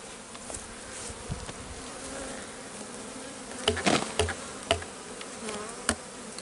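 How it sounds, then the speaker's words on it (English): Bees swarming around a hive during a shook swarm, with healthy bees walking up into the new hive; a steady, dense buzzing with several louder passes of individual bees flying close to the microphone. "Only the healthy bees will be able to walk up towards the hive"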